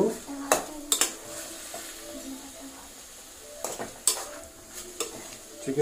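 Chicken cooks in oil in a pan for a simple chicken curry, a low steady sizzle punctuated by several sharp clinks and scrapes of a utensil stirring against the pan.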